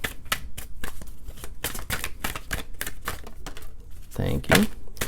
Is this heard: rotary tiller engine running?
no